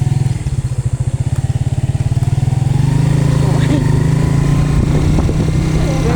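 A motorcycle engine runs close by, starting with a loping idle pulse and then revving into a louder, steady roar.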